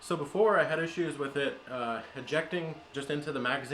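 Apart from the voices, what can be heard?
None of the usual background noises is heard.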